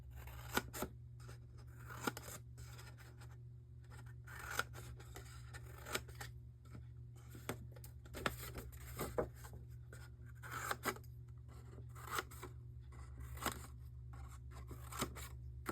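Scissors snip through paper to cut tabs for a scrap paper storage pouch, a long series of sharp, close cuts at an irregular pace over a steady low hum, with no talking.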